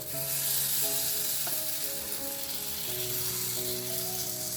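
Rava batter sizzling on a hot soapstone pan, a loud, steady hiss of frying that holds throughout, close up, with a faint electrical hum underneath.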